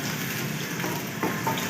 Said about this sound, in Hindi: 3 से 4 अदद बारीक कटे हुए प्याज ऐड करेंगे और प्याजों को हल्का सा गोल्डन कर लेंगे।